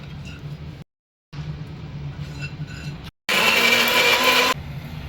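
A kitchen mixer grinds fried cumin and spices into a paste in short bursts separated by brief silences, with a quieter whirring run followed by a loud, harsh final burst.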